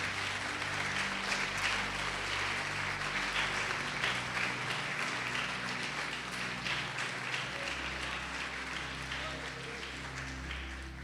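Applause rises from a church congregation at a conference, a steady, dense patter of clapping filling the room for the whole stretch, with low organ or keyboard tones sustained underneath.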